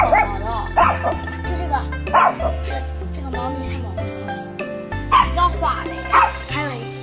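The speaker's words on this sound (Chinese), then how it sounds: "看看吉娃娃对着狼狗都敢叫啊" A small Chihuahua barks in sharp, high yips at a big wolfdog, with several bursts of barking and brief whimpers over a steady low hum.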